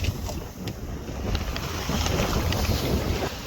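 Wind rushing past a leaning sailing dinghy in strengthening breeze at sea, a loud continuous buffeting roar on the microphone with water slapping along the hull, rising slightly over the few seconds.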